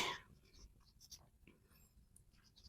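Marker or chalk writing on a board during a Bengali ICT lesson, soft scratchy strokes in short bursts close by under a faint room hum, with no talk.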